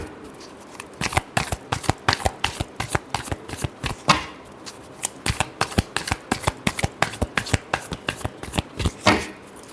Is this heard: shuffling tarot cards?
yes